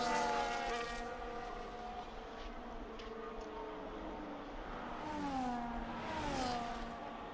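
Simulated F1 cars in F1 25 pushing around the Circuit of the Americas on the formation lap, engines whining and rising in pitch as cars pass, with steady motor drone throughout and no talk.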